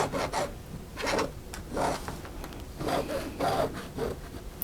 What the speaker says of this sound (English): and draw a line.